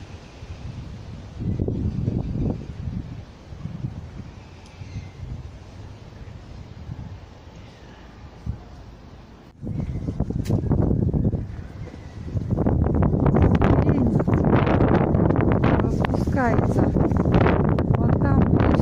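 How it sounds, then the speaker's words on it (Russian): Cold, gusty spring wind buffets the microphone in rough, rumbling bursts, growing stronger and steadier toward the end, with faint rustling in the background. "Холодный ветер."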